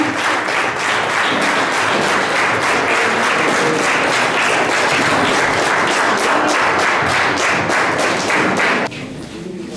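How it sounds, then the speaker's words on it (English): Students and staff at a school event give a big round of applause, loud sustained clapping with a strong rhythmic pulse that holds for nearly nine seconds before cutting off abruptly. "So please give them a big round of applause."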